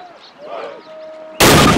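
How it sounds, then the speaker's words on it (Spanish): A single loud, sharp rifle shot cracks out abruptly after a quiet moment, fired at a target on a training range in the video game Call of Duty. "Ahora, dispare 2 veces a su objetivo usando la mira."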